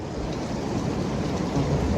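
Rain falls in a steady, dense hiss with a low rumble underneath, continuous and fairly even for the whole stretch, with no voices.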